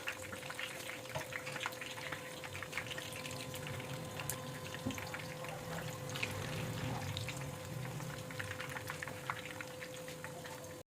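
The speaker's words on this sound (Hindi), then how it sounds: "तो फिर उसके बाद जी उसी ऑयल के अंदर मैंने डाल दिए थे समोसे" Three samosas fry in hot oil, giving a soft, steady bubbling sizzle with fine crackles that runs on evenly and quietly, with no one talking.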